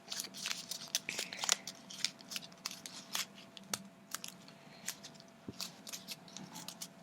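Paper being creased and folded for an origami fortune teller, a run of soft, sharp crinkles and taps at close range, quiet with short pauses between folds.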